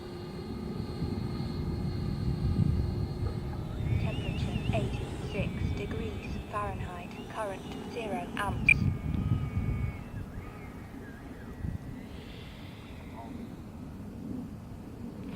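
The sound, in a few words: FMS Hawk 80mm RC jet landing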